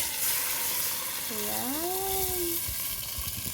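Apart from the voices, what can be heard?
beef broth poured into a hot pan, sizzling and splattering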